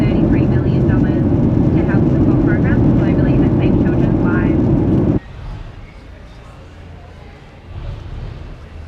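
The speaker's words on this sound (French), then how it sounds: "On est dans l'avion et on décolle pour Perth." Airliner taking off from Singapore on a flight to Perth: a loud, steady roar of jet engines fills the cabin, then drops abruptly to a quieter hum, with people talking softly inside.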